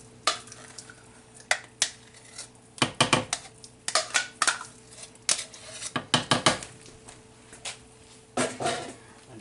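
A spoon clinks and scrapes against a metal pot while beef stroganoff with sour cream is stirred, giving irregular bursts of sharp metallic taps and scraping over a quiet background hum.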